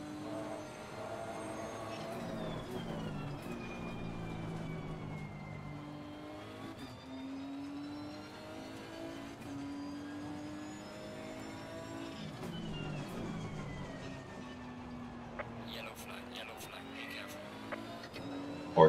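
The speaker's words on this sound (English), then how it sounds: "Porsche went wide into that turn" Race cars in Assetto Corsa Competizione lap the Barcelona circuit, engines droning and rising and falling in pitch through gear changes, including a Porsche, as a steady, continuous whine in the game's audio.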